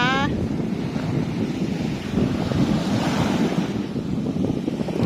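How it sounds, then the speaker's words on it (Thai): Steady roar of sea waves and strong wind buffeting the microphone on Puek Tian beach under a darkening sky, loud and continuous, with a short voice at the start. "นี่ก็เป็นบรรยากาศทะเล ฝึกเตียนนะคะ"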